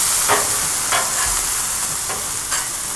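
Potatoes fry on a Blackstone griddle, a constant loud sizzle running throughout while a spatula scrapes and stirs them in a few distinct strokes, with no talking.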